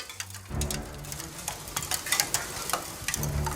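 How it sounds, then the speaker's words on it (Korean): Dense crackling and popping of red-clay salt still hot after baking at 790 degrees, sharp irregular ticks over a low rumble; close and continuous, with no voices. "마치 가마 속인 양 소금 튀는 소리가 들리고"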